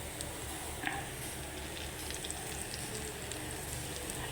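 Butter sizzles steadily in a hot pan for banana blossom kebab, a continuous close frying hiss with a few small crackles and pops.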